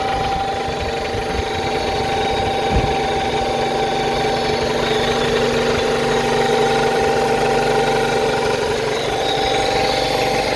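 A 1994 Honda Civic engine running at a steady, loud idle close by, a constant droning hum with a faint mechanical knock underneath and one brief thump near the start, with no talking.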